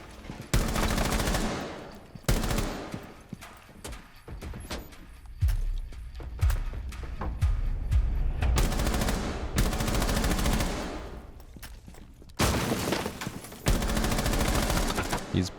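Rapid bursts of automatic gunfire fired through walls in Rainbow Six Siege, loud and close, in repeated volleys separated by short pauses with thuds between.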